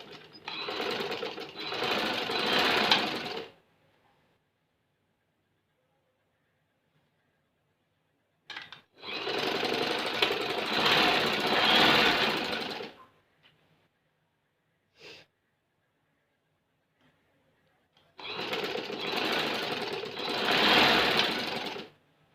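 A sewing machine stitches fabric in three loud, close bursts of fast mechanical chatter, each lasting a few seconds, separated by long silent pauses with a faint click between them.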